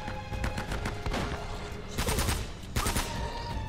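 Rapid gunfire in Uncharted: Drake's Fortune, sustained bursts of shots crackling through a firefight, loud and steady with a heavier cluster near the middle.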